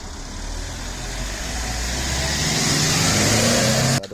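A taxi drives past on a road in Belize, its engine rising in a steady, close roar that grows louder over a few seconds before cutting off abruptly.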